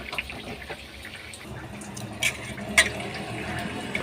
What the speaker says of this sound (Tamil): மிளகாத்தூள்லாம் கொஞ்சம் தண்ணி ஊற்றி நம்ம இந்த பச்சை வாசனை போகிற வரைக்கும் வச்சுக்கலாம்.